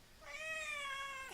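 A cat lets out a single clear, drawn-out meow lasting about a second, close and fairly quiet, with nothing else sounding around it.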